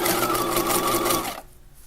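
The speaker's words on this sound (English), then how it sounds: "keep the fabric from shifting as we're sewing it onto this very sturdy piece of webbing" Sewing machine back-stitching fabric onto a sturdy webbing strap for a tote bag, a close, loud, steady mechanical whir that stops abruptly near the end.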